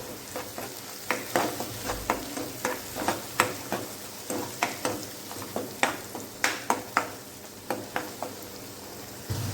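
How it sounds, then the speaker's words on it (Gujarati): Crushed onions with ginger and garlic fry in a pan, a continuous sizzle broken by rhythmic scraping stirs and clanks of the spatula against the pan, close and fairly loud, no voices. "તેને ઉમેરી લઈશું અને તેને પણ આપણે થોડીક વાર માટે સાતળી લઈશું"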